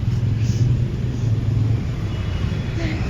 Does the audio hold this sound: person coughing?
no